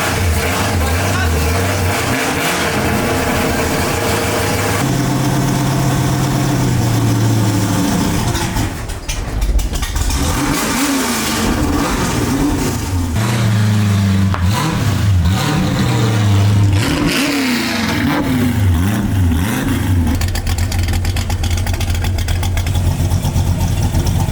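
An old first car, fitted with a 9-inch rear end, cranks to life and revs hard, its loud engine roar rising and falling in repeated pulls for over twenty seconds without pause.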